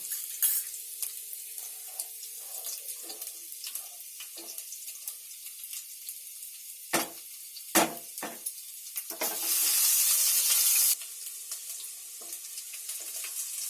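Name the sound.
ginger, garlic, chilli and onion frying in oil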